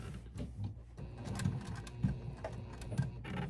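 A sewing machine stitches hoodie fabric with a quiet, close mechanical whirr and rapid ticking, running in short bursts with brief pauses between them.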